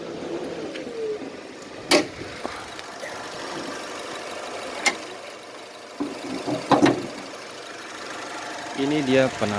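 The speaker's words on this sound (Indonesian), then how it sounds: "minimnya suara mesinnya masih halus" A 2020 Honda Brio Satya E CVT engine idles quietly and steadily under an open hood, with a few sharp clicks and a short burst of speech.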